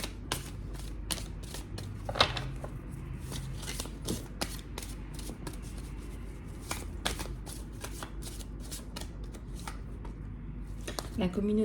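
Tarot cards are shuffled close by in a long run of quick, crisp riffling flicks and soft slides, steady and repetitive, while someone talks in French over the card sounds throughout.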